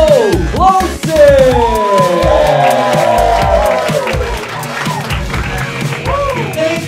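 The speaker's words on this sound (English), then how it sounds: "Put your hands together for the host tonight" A comedy club crowd at a live show in Shanghai cheers, whoops and applauds loudly for the host, with continuous clapping and voices calling out close by.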